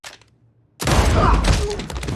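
A sudden burst of rapid, overlapping gunshots erupts after a quiet moment, loud and close, rattling on continuously.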